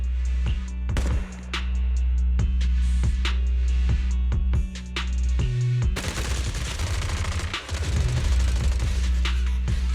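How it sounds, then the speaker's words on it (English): Suppressive marching gunfire in the video game Zenless Zone Zero: loud, rapid bursts of shots crack out in repeated volleys over a low rumble, with heavier impacts and a sudden shift to denser fire midway. "Gunfire? This pattern. Suppressive marching fire."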